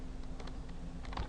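Steady clicking keystrokes on a computer keyboard as numbers are entered for a programming lab, a close, busy patter of quick taps with no voice over it.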